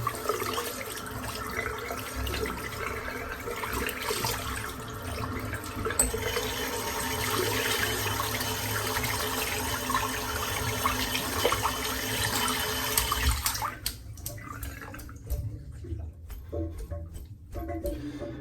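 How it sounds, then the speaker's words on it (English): Tap water runs steadily while a shaving brush is rinsed under it at a bathroom sink after a head shave, a continuous near splashing hiss that cuts off abruptly near the end, leaving faint drips and handling sounds. "So I'm going to rinse the brush out."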